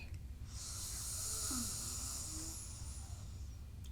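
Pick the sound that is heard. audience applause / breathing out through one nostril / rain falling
breathing out through one nostril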